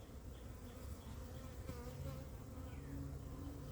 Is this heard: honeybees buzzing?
yes